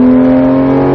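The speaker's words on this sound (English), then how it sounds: "There you go, keep accelerating, keep going, keep going." A supercar accelerating on a track in Las Vegas, its engine holding a loud, steady, close droning whine throughout the short moment.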